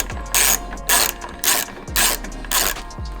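Close, crisp bursts of a ratchet fitted with a hex socket, tightening a titanium bolt in a car engine bay, clicking five times in a steady rhythm.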